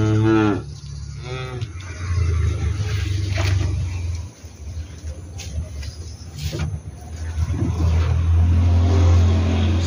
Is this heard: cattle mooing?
yes